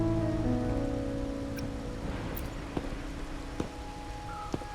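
Steady rain patters in a Wuthering Waves game scene, a soft even hiss under low tonal music, with a few faint isolated drips or taps standing out.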